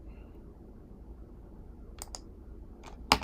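A few sharp mouse clicks in a quiet room, two close together and then two more, the last one louder and crisper.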